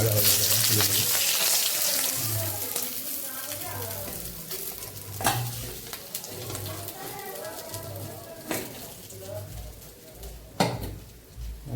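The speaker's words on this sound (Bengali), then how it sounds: "মাছগুলো আমি এভাবে ভেজে নিচ্ছি একটা একটা করে" Koi fish frying in hot oil one piece at a time, a crackling sizzle that fades from loud to moderate, broken by a few sharp clanks of utensil against pan.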